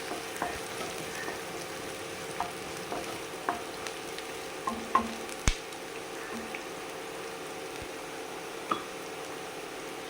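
Onions softening in a pan before sprouted green gram goes in for an egg thoran, producing a quiet, steady sizzle with scattered soft clicks and a couple of sharper spatula taps, close by and without talk.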